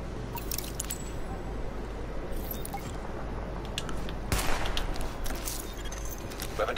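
Gunfire during a weapon test at a shooting range in the video game The Division, scattered sharp shots over a low background hum, with a louder burst past the midpoint.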